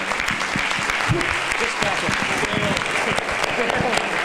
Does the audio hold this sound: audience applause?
yes